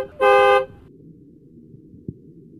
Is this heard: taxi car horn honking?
yes